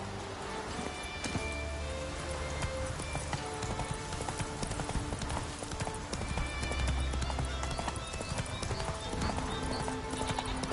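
Roach the horse galloping in The Witcher III, a steady rapid clip-clop of hooves throughout over a dense, busy game soundscape, with a brief whinny-like hint and no talk.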